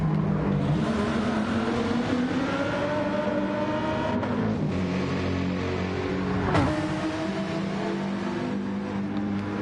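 Several Gr.3 race cars in Gran Turismo 7 roar around Trial Mountain Circuit, steady engine drone with rising revs and a swelling whoosh as one car overtakes another mid-race, loud and continuous.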